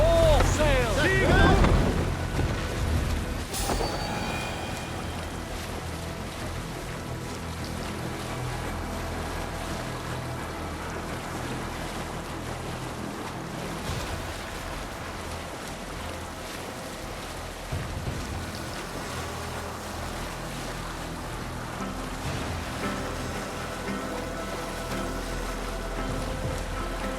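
A ship sails across ocean waves in Assassin's Creed Valhalla, with a continuous rush of wind and water over a low rumble. A loud burst comes at the start, and voices and music sit faintly beneath.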